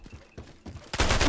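AUG rifle fire in the shooter game Ironsight: a few spaced single shots, then a dense, loud burst of rapid automatic fire.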